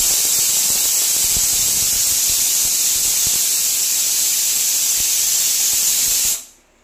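A pressure cooker on a low gas flame lets out a loud, steady hissing steam whistle that holds for about six seconds, then cuts off abruptly into silence.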